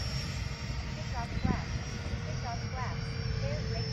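An FMS F-86 80mm electric ducted-fan RC model jet flies with flaps up, its whine sweeping up and down in faint passes beneath close talk.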